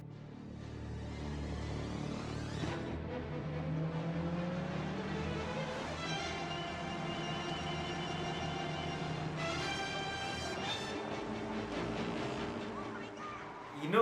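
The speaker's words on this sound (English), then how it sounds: "And a chase scene between the wheelchair and the car." Film chase scene of a car pursuing a rocket-powered wheelchair, with a sustained engine roar, rising revs and pass-by sweeps that run steadily for about fourteen seconds, partly under music.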